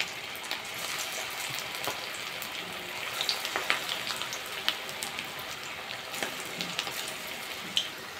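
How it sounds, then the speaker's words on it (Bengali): Nasta snacks deep frying one by one in hot white oil, a steady dense sizzle and crackle with scattered sharp pops throughout, close and continuous with no voices. "এবার এক একটা দিয়ে ভাজা করে নেব।"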